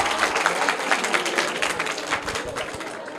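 Sustained group applause from a school audience after a correct quiz answer about Article 370, dense steady clapping filling the whole stretch at moderate loudness with no speech over it.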